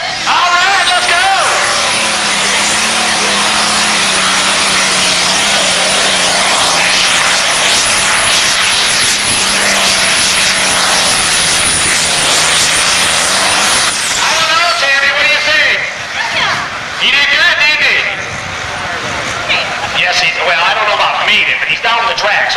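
A John Deere pulling tractor roars at full power for about fourteen seconds during its pass down the track at a grand national truck and tractor pull, loud and steady with a high whine, then cuts off into crowd and announcer noise.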